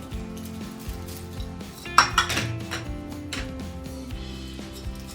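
Peanuts and cornflakes tipped into a mixing bowl, a run of clinks and clatters with a sharper rattling burst near the middle, then lighter knocks of utensils against the bowl.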